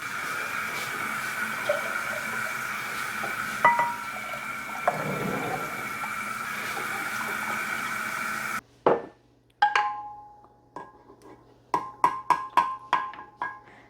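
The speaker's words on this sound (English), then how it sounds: "then I'm gonna fill the rest up with cold water." Cold water filling a container for kombucha in a home kitchen, a steady running pour that stops, followed by scattered drips and small clinks.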